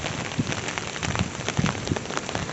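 Heavy rain falls steadily at night during a storm at a flooded campsite near Chitrakote, a dense continuous patter with scattered louder drops striking surfaces nearby.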